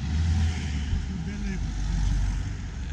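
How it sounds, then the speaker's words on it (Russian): Busy street traffic in Valencia, Spain, gives a constant low rumble of cars and engines passing nearby, with a person speaking over it. "что-то тут это как-то все очень много машин, да, Бурикджан?"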